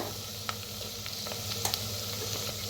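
Ground spice paste with turmeric and red chilli powder roasting in a pan for stuffed brinjal, a steady close sizzle with faint scraping stirs and occasional clicks, no talking.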